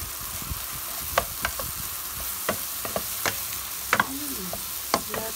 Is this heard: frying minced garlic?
yes